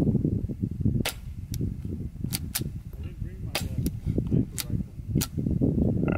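A series of sharp, quiet cracks from a suppressed .22 rifle firing CCI Quiet subsonic ammunition, about eight shots spaced irregularly over low rumbling background noise.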